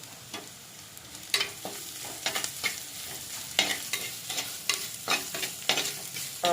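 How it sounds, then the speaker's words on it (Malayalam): Onions and shallots sauté with salt in a pan, with a steady sizzle under repeated sharp scraping stirs that come in irregular bursts, close and moderately loud, with no voices. "ഈ ഒരു സമയത്ത് ഉപ്പിട്ടാൽ കുറച്ച് പെട്ടെന്ന് നമുക്ക് ഈ ഉള്ളിയും സവാളയൊക്കെ പെട്ടെന്ന് ഒന്ന് വഴറ്റിയെടുക്കാൻ പറ്റും"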